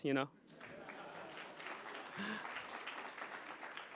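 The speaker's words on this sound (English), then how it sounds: "Now you can clap" An audience at a talk on startups in China applauds with a continuous wash of clapping from many hands, moderately loud and sustained, after a brief sharp sound at the start.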